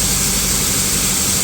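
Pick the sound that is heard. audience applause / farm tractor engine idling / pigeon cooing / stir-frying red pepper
farm tractor engine idling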